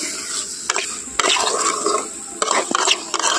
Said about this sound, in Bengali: অল্প একটু একটু গরম জল দিয়ে খুব ভালোভাবে কিন্তু কষিয়ে নিতে হবে